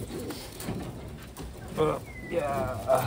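Pigeons give brief, soft coos while being handled, mixed with rustling and faint background talk.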